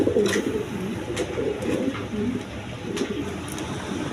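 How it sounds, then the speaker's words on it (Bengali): High-flying Giribaz pigeons coo in a low, continuous, murmuring rumble close by, with a few faint higher chirps scattered over it and no speech. "এখানে এক পেয়ার হাই ফিলাইং গিরিবাস কবুতর আছে, দুইটা বাচ্চা সহ আছে"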